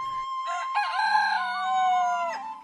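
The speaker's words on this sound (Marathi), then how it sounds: "सकाळी कोंबड्यांच्या आरवणीने जाग यावी" A rooster gives one loud, close cock-a-doodle-doo crow in a Konkan village at morning, a single rising and falling call lasting about two seconds with nothing else around it.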